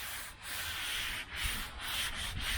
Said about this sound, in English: Grind all this whole crap out.